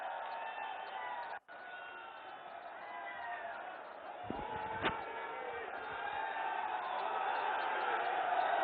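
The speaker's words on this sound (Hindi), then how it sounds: "जोरदार तालियों के माध्यम से अभिनंदन," A large crowd at a political rally in Saharanpur applauds and cheers in a steady, dense wash of noise that swells toward the end, with voices mixed in.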